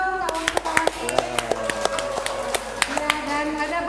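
Applause from a crowd at an anniversary reunion night for a class cohort, with dense overlapping hand claps and sharp individual slaps under continuous voices and cheering, steady throughout.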